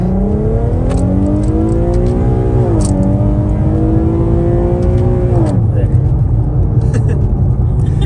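An Infiniti Q50 with a pop and bang tune roars at full throttle, heard from inside the car as its engine note climbs, dips and climbs again, then drops into rumbling with sharp crackles, while people talk and exclaim over it.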